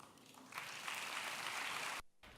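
Audience applause after a marvelous stage performance at a school English Day event in 2023, a steady sustained clapping from a crowd that swells after a brief quieter start and then cuts off abruptly.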